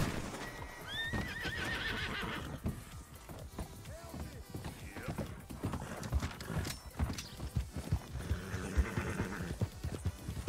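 Horses neigh and gallop with rapid clip-clop hoofbeats in a played video game, whinnies rising early over a busy mix of hooves and game sound, with a voice faintly under it.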